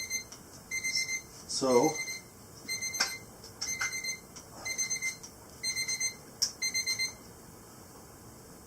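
A Robobrew G2G all-in-one electric brewing system sounds its timer alarm during a small-batch homebrew, with repeated bright beeping bursts in a regular pattern while someone speaks over it.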